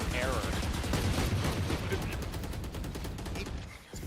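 Rapid, repeated pistol fire from Sheriff and Classic handguns in a collegiate Valorant esports match, a dense stream of sharp shots packed close together under a fairly loud game mix.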